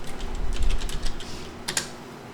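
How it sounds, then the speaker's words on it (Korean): Computer keyboard typed close up while entering a search term, a quick cluster of key clicks followed by a couple of sharper taps near the end, no talk. "네이버에다가 프리픽을 써볼게요"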